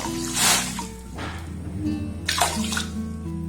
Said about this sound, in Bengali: একই বাটি মাপ করে আমি দেড় বাটি জল দেব